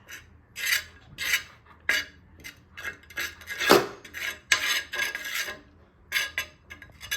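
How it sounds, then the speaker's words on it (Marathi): Butter rubbed across a hot griddle pan (tava) to grease it before toasting cheese garlic bread, giving a series of short raspy scraping strokes in an uneven rhythm, close and fairly clear, with no talking. "आपण हे तव्याला ग्रीस करून घेऊया बटरनेच"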